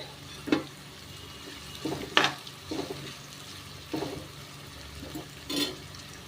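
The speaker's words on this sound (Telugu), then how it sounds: "తాలింపు వేగుతుండగా" Curry leaves sizzle in hot tempering oil, giving a soft, steady frying hiss broken by several short louder crackles and stirring scrapes, no voices.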